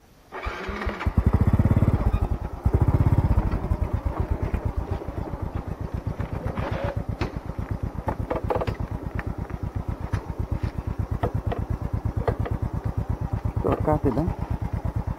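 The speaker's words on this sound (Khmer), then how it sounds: "អូជិះម៉ូតូ" A motorbike on a forest track starts with a loud roar, then settles into a steady, close, rhythmic engine putter that continues for the rest of the clip, with a few faint voices in the background.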